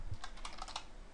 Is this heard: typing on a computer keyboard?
yes